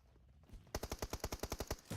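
A sustained spray of automatic gunfire in PUBG Mobile rattles off about a dozen evenly spaced, punchy shots after a quiet opening, loud and close.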